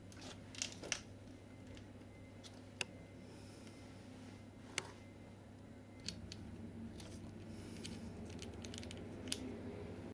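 Scissors snip excess cord in a quiet room, a few sharp isolated clicks spaced unevenly over a faint steady hum.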